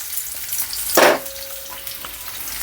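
Chopped onion and green chilli frying in oil in a pan for macaroni pasta, a steady close sizzle with a sharp burst of crackle as they go in, then a quieter hiss and a faint stir.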